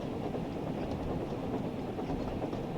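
Steady simulated train running on the West Somerset Railway in Train Sim World 5 with the Thomas add-on, a continuous dense rumble with soft rhythmic clatter throughout and no voices.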